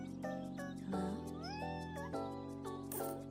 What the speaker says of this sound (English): we've got cats beginning to come back